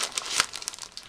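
Plastic mail package from an online shopping haul being torn and opened, a bursty run of close crinkling and crumpling with a sharp tearing peak in the middle.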